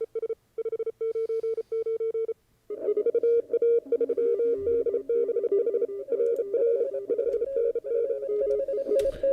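Morse code CW signals on an amateur radio band, loud steady tones keyed on and off in fast rhythmic dits and dahs, running continuously without speech.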